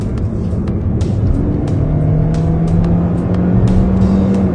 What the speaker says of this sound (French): Donc vous voyez qu'il chantonne bien parce que c'est un moteur atmosphérique.